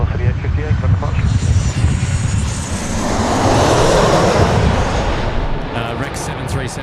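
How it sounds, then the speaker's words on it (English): A Rex Boeing 737 airliner passes low overhead on approach into Sydney Airport with a loud, broad jet roar that swells toward the middle and then eases, heard close against wind and outdoor noise. "Rex 737 just coming in over our heads here"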